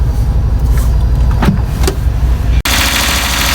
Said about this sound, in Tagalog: lakas ng palya. Pakita ko sa inyo, pati sa engine.